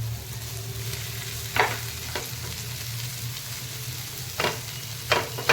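Grated sweet potato roasting in ghee for a fasting halwa, a low steady sizzle under a few scraping stirs of a spoon against the pan, with no one talking.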